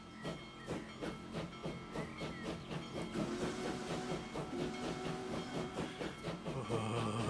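A Union Pacific Big Boy steam locomotive in Transport Fever 2 chugs with a rhythmic series of steam exhaust beats and hissing, accompanied by a sustained whistle-like tone near the end.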